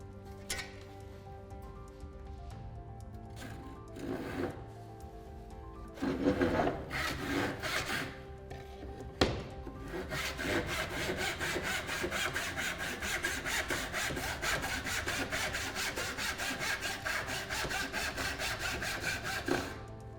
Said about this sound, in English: we'll cut through the cross grain